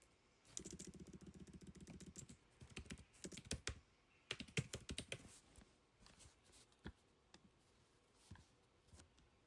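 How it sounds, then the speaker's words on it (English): Someone types on a PC keyboard, with quick bursts of clicky keystrokes and short pauses between them, close and moderately loud, with a brief low engine hum in the first couple of seconds. "I'm typing this in on my PC"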